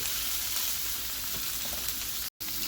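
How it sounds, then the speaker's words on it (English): Fully cooked Smokies sausages brown in a pan for a sauced stir fry, giving a steady, dense sizzle throughout with one brief dropout near the end and no talking. "That's why we are browning it."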